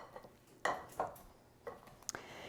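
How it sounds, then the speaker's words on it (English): A pastry blender chops chunks of butter into flour in a bowl, giving a few irregular metallic clinks and scrapes against the bowl with quiet pauses between strokes. "I'm just going to start with my pastry blender and get some of these 1/2 inch, 1 inch chunks just a little bit smaller"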